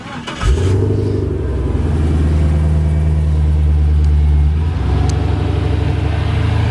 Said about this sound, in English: Let me start it up, let you hear it run.